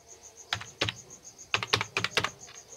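Keys are tapped on a computer keyboard while entering a vehicle registration number, in short irregular bursts of close, crisp clicks with pauses between.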